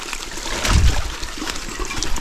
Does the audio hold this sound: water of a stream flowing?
yes